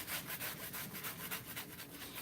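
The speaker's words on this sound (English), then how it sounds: "We're going to just take some 220 grit, and we're going to sand this." Sanding an acrylic pour with 220 grit sandpaper: quiet, close, rhythmic back-and-forth scratchy strokes repeating steadily, with no talking.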